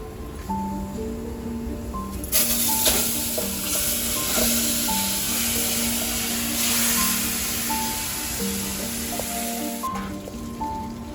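Spiced mango pulp hits hot tempering for a Malvani mango raita, giving a loud, steady sizzle with continuous stirring and scraping in the pan, close and alone throughout.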